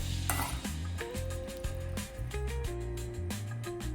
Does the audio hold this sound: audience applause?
no